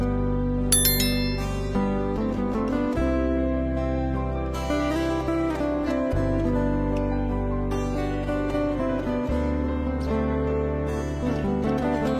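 A bright, ringing notification bell chimes and rings on, layered over sustained tonal sound, clear and close throughout with no voices.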